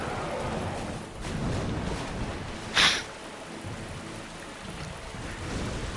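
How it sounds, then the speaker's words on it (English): A single sharp lightning crack with rolling thunder cuts through steady rain ambience in Dark Souls Remastered, the bright strike standing out briefly midway against the constant wash of falling rain. "Can you not with the lightning,"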